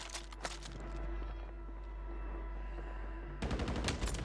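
Call of Duty Warzone gunshots: a few sharp faint shots at the start, a steady low hum, then a quick rattling volley of quiet automatic fire at the end, without speech.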